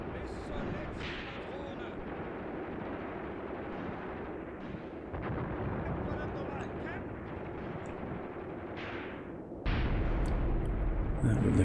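Mortar fire and explosions sound in the World War II tactics game Graviteam Tactics: Mius Front, a run of dull booms and rumbling blasts, with a heavier, louder impact near the end, heard over someone talking throughout.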